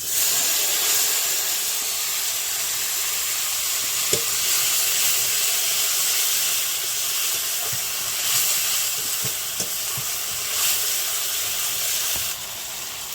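Onion paste hitting hot oil with whole cumin seeds gives a loud, steady sizzle and hiss that runs throughout, with a few faint stirring clicks and no talking.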